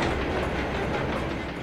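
A Gresley heritage railway carriage runs through a tunnel, a loud, dense, continuous rumble with rhythmic wheel clatter filling the enclosed space and no speech.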